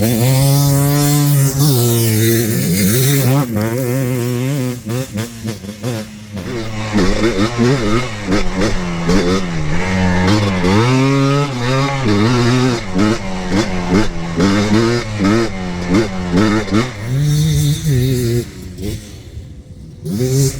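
Ported two-stroke Yamaha Blaster quad engine revving hard and loud up close, rising and falling through repeated throttle blips with a raspy, buzzing exhaust tone, easing briefly in the middle before revving again.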